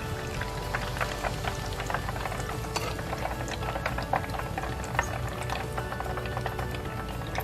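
Coconut shrimp deep frying in a Cuisinart deep fryer, a steady close bubbling sizzle with dense crackling pops and spatters throughout, no talking.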